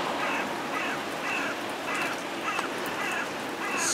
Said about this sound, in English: It is soaking out. Really soaking.